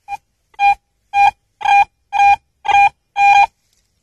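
Seven scratchy, buzzy beeps come from an AT Pro metal detector over a target on a gravel roadside. Each beep is short and loud, and they sound in a steady rhythm that grows slightly stronger, with no voices.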